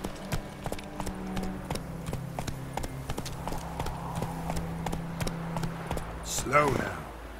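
Horse hooves clopping in a steady, evenly spaced rhythm from The Witcher 3, loud and close, running almost the whole time beneath a low hum of game music and ambience, with a brief rustling flourish near the end.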